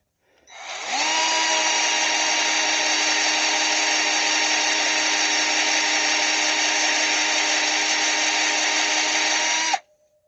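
A power drill with a left-handed bit whines loudly and continuously for about nine seconds into an engine mount bolt on a Wright Stander ZK mower, steady in pitch, starting up quickly and cutting off abruptly.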